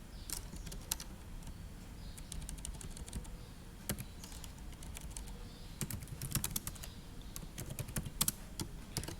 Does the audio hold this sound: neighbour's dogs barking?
no